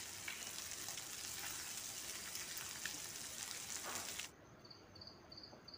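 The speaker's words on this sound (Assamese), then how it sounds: "মাছ দুই পিচ দি দিছোঁ ভাজিবলৈ। মাছৰ লগত কেঁচা জলকীয়াখিনিও দি দিছোঁ ভাজিবলৈ" Two pieces of fish, green chilies, onion and ginger sizzle in hot oil with a continuous close crackling hiss, which then cuts off abruptly near the end and leaves a faint quieter background.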